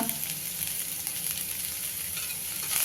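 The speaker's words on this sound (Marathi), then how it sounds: "अगदी एक मिनिट भरत परतणार आहे आणि गॅस बंद करणार आहे" Green chilli chutney (kharda) with salt and coriander sautéing in a pan on a gas stove, a steady close sizzle with soft stirring scrapes running the whole time, no voices.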